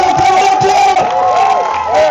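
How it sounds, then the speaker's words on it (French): A loud crowd cheering and shouting together, a steady roar of voices with whoops rising over it and no pauses. "On peut applaudir, on peut applaudir."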